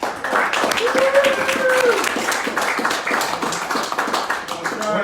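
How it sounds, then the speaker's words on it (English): An audience claps warmly for Sharks play-by-play announcer Dan Rusanowsky, a dense round of applause sustained throughout, with voices talking over it. "Let's give a warm round of applause for Dan Rusanowsky."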